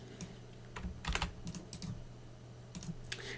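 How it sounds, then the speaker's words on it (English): Typing on a computer keyboard, with quick irregular bursts of quiet clicks close by over a low steady hum, and no speech. "You need to type this"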